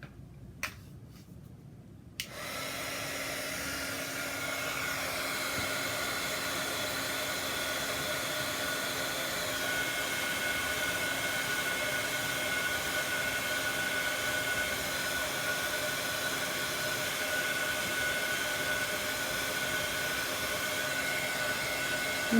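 Steady hot-air heat tool drying chalk paste on a baby onesie, a loud continuous whirring hiss with a tonal whine that starts abruptly after a few quiet clicks and runs unbroken to the end.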